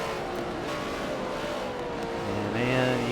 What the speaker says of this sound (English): can see he's playing with the throttle